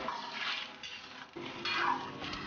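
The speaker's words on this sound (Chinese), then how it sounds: "把苦瓜倒入锅中， 用炒勺轻轻推匀，" Bitter melon stirred with a ladle in a pot of boiling water, producing soft watery sloshing and faint scraping, close but quiet.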